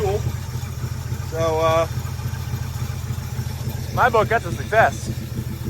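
A 1967 Chevrolet C10 pickup engine idles steadily after a carburetor fix, a continuous low rumble running throughout while a person talks over it in short bursts.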